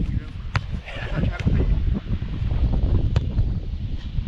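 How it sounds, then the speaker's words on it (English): Heavy wind buffeting the microphone in rough, rumbling gusts outdoors during football free-kick practice, with occasional knocks and thumps mixed in. "Not as extreme, very windy."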